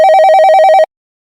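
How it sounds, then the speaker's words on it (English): A telephone ringing in a steady electronic warble, a rapid trilling tone repeated about a dozen times for under a second, loud and clear with no talk, then cutting off to silence. "The phone's ringing, please mute the TV."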